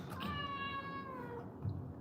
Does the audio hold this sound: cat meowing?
yes